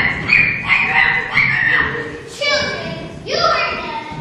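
On a theatre stage during a Peter Pan play, a performer voices the nurse dog Nana with repeated barks and yips. Children's voices are heard over a busy background, and the imitation comes in several bursts of moderate loudness.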